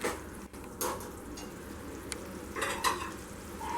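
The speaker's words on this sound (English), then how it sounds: "Give it a stir. Let it simmer for a minute" Elephant foot yam gravy simmers in a pan while a spoon stirs it, giving a soft, close bubbling sizzle broken by a few scraping strokes and light clinks, with no speech.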